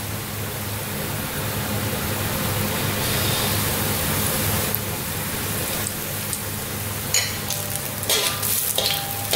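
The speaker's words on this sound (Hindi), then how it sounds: "इस तरह से तेल हम डालेंगे पोटैटो वड़ा के ऊपर, और जो साइड्स पे ये फ्राई हो रहे हैं इनको हम हटा देंगे।" Potato vadas deep-frying in hot oil, a loud, close, rain-like crackle and bubble that holds steady throughout, with a few brief clinks and surges near the end and no speech.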